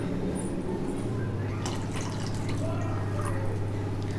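Water pours steadily into a pot of tomato and pepper rasam, a close, continuous liquid stream with light splashing.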